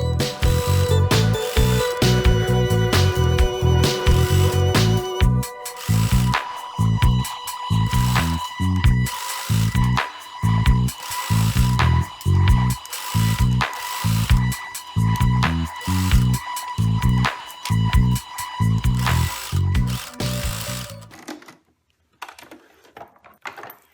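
Sewing machine stitching rick-rack trim onto a Minnie Mouse pillowcase dress, a loud close mechanical chatter in fast runs broken by brief pauses, then stopping near the end.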